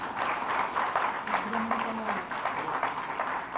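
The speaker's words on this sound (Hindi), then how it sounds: "जोरदार तालियां।" An audience at an official welcome ceremony for a chief minister applauds, a sustained, moderately faint patter of many hands clapping with a faint tonal sound briefly audible underneath.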